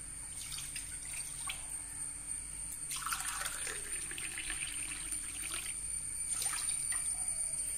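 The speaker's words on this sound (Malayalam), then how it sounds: "1 കപ്പ് റവയ്ക്ക് 2 കപ്പ് വെള്ളം അടുപ്പയിലൊഴിക്കുക." Water splashes and trickles into a pot on the stove in a few short bursts, one longer pour in the middle, fairly quiet and close.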